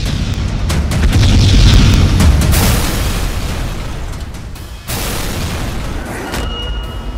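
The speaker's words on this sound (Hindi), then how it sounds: "रॉकेट लॉन्चर से टारगेट उड़ाने की प्रैक्टिस करते जवान।" Rocket launcher blasts hit targets during a Chinese army live-fire drill at high altitude in Tibet, a loud sustained roaring boom with rumbling echo, a brief dip, then continuing heavy rumble.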